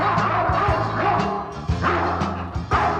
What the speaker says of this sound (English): I want a sign to hear a big dog